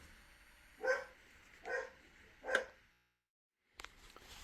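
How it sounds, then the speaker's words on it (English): Three separate dog barks ring out at a steady pace from a short distance during a Lionel toy train run, then a brief silence and a faint clatter follow. "Dogs are barking."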